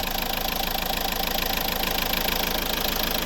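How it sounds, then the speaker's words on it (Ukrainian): The 1.5 dCi diesel engine of a 2011 Renault Grand Scenic III idles evenly with a steady, rapid clatter, close and continuous without any revving. "Ось робота двигуна."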